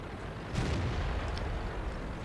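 Tank cannon firing high explosive anti-tank shells in World of Tanks from an E100 heavy tank, a single deep muffled boom rising over a constant engine rumble.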